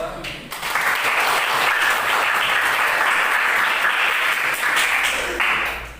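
Steady applause rings out from a room of people at a teachers' coaching session. It swells quickly and holds at an even level for about five seconds, then fades.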